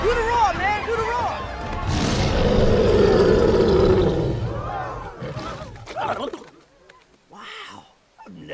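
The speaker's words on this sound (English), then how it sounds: "Do the roar, man! Do the roar!" An animated lion character roars in a cartoon scene, with a long, loud, swelling roar that fades out and is followed by excited voices and shouts.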